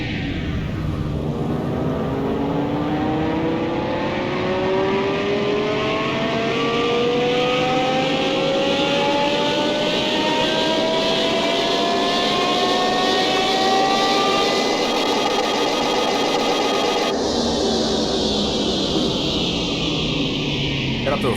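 A car engine in Car Mechanic Simulator 2021 revs on a dyno, climbing in a long, smooth, loud whine for about fifteen seconds before the pitch drops off sharply.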